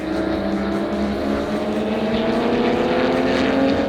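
Porsche club race cars accelerating together off a green flag start down the main straight at NJMP Thunderbolt, a dense layered engine roar with multiple rising tones, loud and continuous.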